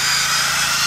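A drill bores a hole down through three stacked pieces of wood, a steady high whine heard close and loud in a brief burst.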